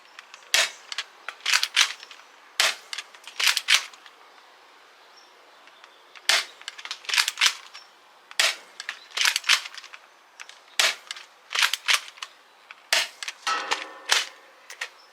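A Dart Zone Pro MK-2 toy blaster fires darts in irregular clusters of sharp, snappy pops and clacks, several quick shots at a time separated by short pauses, close and alone with no speech.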